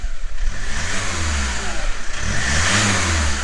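A motorhome engine revs up twice through its exhaust, rising and falling in pitch, loud and close with a rumbling low end.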